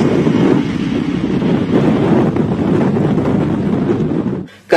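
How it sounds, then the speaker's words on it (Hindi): Strong gusting wind in Karachi during a storm with rain, a loud, steady broadband roar buffeting the microphone throughout, dropping off briefly near the end. "कराची में तेज हवाओं के साथ बादल बरस पड़े।"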